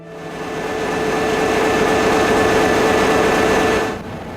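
A ship's engine runs many decks below, a steady broadband hum with a faint tonal whine, building over the first second, holding level, then easing off near the end, with no voices.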